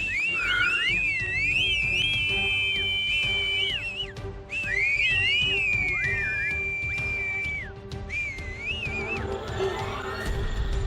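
Several people whistle together at a Halloween party, bright gliding tones rising and falling in long overlapping phrases with short gaps, loud and close over a busy room background, no clear speech.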